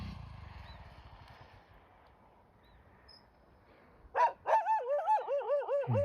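A local dog on a steep trekking trail near Kolhapur barks in a quick run of loud, close barks after a few quiet seconds of faint outdoor ambience.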